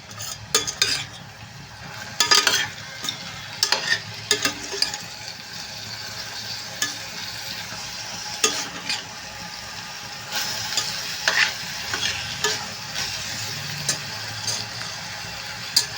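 Onions frying in oil in a pan, with a low sizzle under intermittent scraping and clinking of a spoon stirring them, the bursts of stirring coming in uneven clusters close by.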